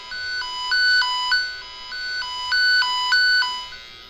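Tone generator from a wire tracer toner, set up on a red lead, warbles steadily between two high pitches in a repeating alternating pattern, clear and close with no talking.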